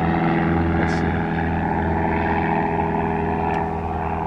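A propeller airplane passing overhead near a workshop, a loud continuous droning hum that holds steady and eases slightly toward the end, with a couple of brief clicks over it.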